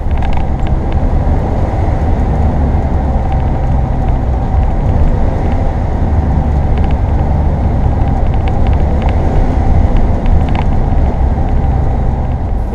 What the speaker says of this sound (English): What you're hearing there is the transmission kind of stopped pulling.